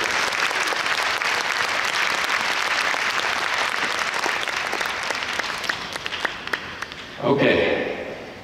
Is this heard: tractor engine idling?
no